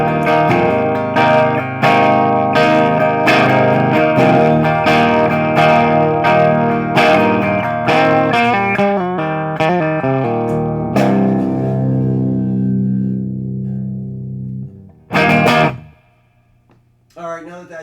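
A clean electric guitar plays plucked chords and notes in a steady rhythm, ringing out before a final strum and fade.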